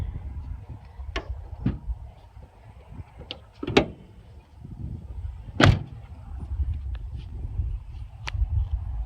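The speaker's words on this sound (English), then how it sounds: "you just shut it, and then it locks itself in to the hinge, and then you just shut the door" Door handling on a Nissan NV passenger van: a few sharp metallic clunks and latches, two of them louder slams, spread over low background rumble, with no talking.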